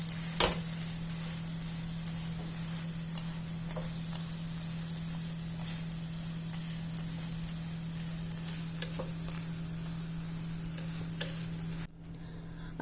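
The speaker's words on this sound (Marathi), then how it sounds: "पराठा भाजून घ्यायचा" An aloo paratha roasts on a hot pan, giving off a steady, fairly quiet sizzle with occasional crackles and a low hum underneath, before the sound drops away near the end.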